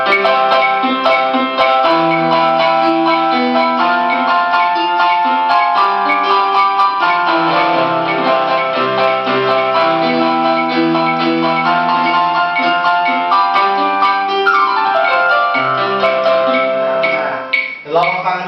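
A Siservier MK 906 electronic keyboard plays a bright, busy melody with chords over a steady beat, loud and close, cutting off abruptly at the end.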